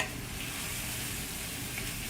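Bolognese sauce sizzles steadily in a pan, a continuous close frying hiss with no talking.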